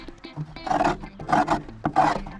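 Old flocking being scraped off interior trim of a 1989 Toyota van, three rough rasping strokes close up, each about a third of a second long, with quiet gaps between.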